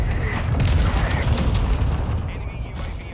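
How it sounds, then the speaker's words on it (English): Dense, rumbling battle noise from a Call of Duty Modern Warfare II multiplayer match, with enemy mortar explosions booming continuously under a steady wash of gunfire and low-frequency blasts. "Is that enemy mortar?"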